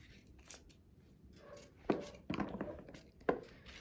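Green peppers being coarsely chopped for mixed pickles, a few sharp knife strikes on a board at irregular intervals, close and fairly quiet with soft background noise.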